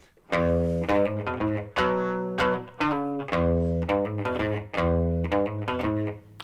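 A Rickenbacker 325 electric guitar plays the opening measures of a song, a run of loud, steady strummed chords in an even rhythm, close and alone with no voices.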